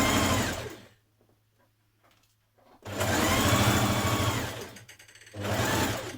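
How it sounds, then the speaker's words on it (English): A sewing machine stitches around the neckline of a Lilou dress, joining fabric and lining in two loud, close, steady whirring runs separated by a short quiet pause. "we're going to stitch all around the neckline,"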